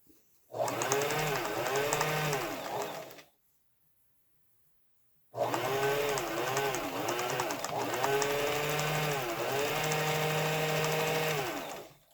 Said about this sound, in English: as you sew down the edge of this side, you're just going to put the last strap sandwiched in the seam allowance here